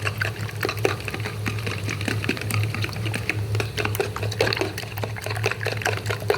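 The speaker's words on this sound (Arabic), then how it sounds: "البيض ده هنضربه كويس جدا." Six eggs are beaten hard in a bowl for a baked omelette, giving a fast, continuous clatter of whisking and sloshing liquid that stays steady and close, with no voices.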